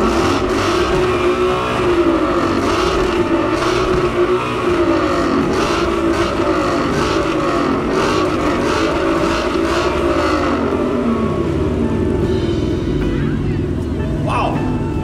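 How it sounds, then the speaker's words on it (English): A loud Mustang GT V8 engine with a Corsa exhaust revs repeatedly, rising and falling with a deep, throaty exhaust rumble that stays close and dominant throughout. "Corsa exhaust to make sure everyone knows you've arrived"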